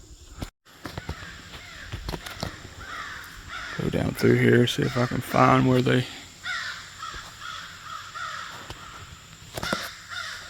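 Crows cawing in wooded Eastern Kentucky Appalachian hills, a burst of several loud harsh caws in quick succession near the middle, with someone talking quietly over footsteps before and after.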